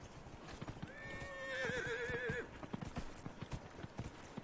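Horse in the video game Dragon Age Inquisition, with a rapid clip-clop of hooves throughout and a clear, wavering neigh rising over the hoofbeats midway.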